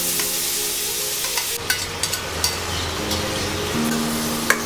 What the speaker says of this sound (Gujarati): હવે આ જ ઘીમાં આપણે આ જે બીટ જે ચોપ કર્યા હતા તે બધા એડ કરી દઈશું